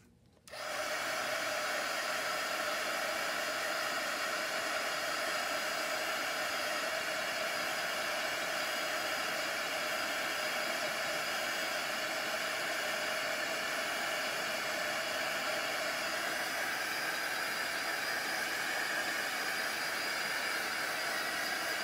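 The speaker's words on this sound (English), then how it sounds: "let me hit that with the heat tool." Craft heat tool blowing hot air to dry a project, a loud steady fan whoosh that switches on abruptly and holds continuously and close for the full span with no talk.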